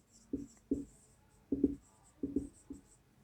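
Chalk or marker taps and scratches on a board as a teacher writes, in short clustered strokes at a steady pace, crisp and close in a quiet room.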